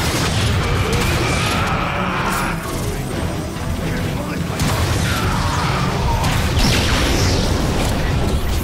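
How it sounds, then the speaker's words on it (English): A rocket explosion in the Transformers: Fall of Cybertron video game, a loud, dense blast of crashing and rumbling amid continuous battle noise, with voices talking over the chaos. "Rocket incoming!"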